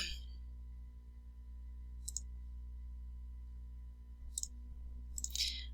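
Computer mouse clicking through survey questions: three sharp, isolated clicks spaced a couple of seconds apart over a quiet, steady electrical hum.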